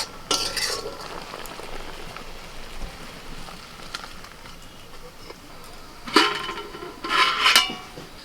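Roasted spices are stirred into mango simmering in sugar syrup, a low bubbling hiss with a few bursts of spoon scraping and clinking against the pot near the start and again near the end.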